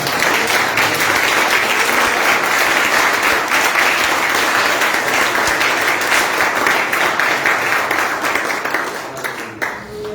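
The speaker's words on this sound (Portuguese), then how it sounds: "Por isso, em nome de Jesus, nós te agradecemos com a salva de palmas essa noite, Pai." Loud, sustained applause from a church congregation at a night service, steady clapping that fills the space and tapers slightly toward the end.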